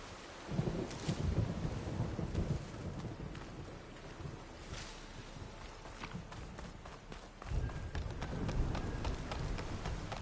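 A thunderstorm in Horizon Forbidden West: dense rain hiss and rolling thunder rumbles rise and fall continuously, with a heavier rumbling surge near the end.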